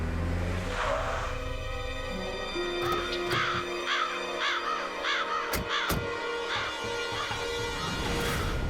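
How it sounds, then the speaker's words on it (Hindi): Crows in a foggy winter village cawing in a series of harsh, repeated calls, several birds overlapping loudly over a low rumbling background with a couple of sharp knocks. "ये कौवे, ये हंस क्यों रहे? क्या आवाज है?"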